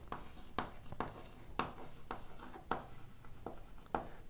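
Chalk or marker strokes on a board during a chemistry lecture come in short scratchy bursts with brief pauses, close and fairly clear, with almost no talking.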